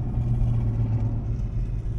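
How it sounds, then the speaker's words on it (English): A 2JZ straight-six Toyota Hilux pickup driving, giving a low, close engine rumble that holds steady without voices. "we are getting a little drive in the 2JZ Hilux"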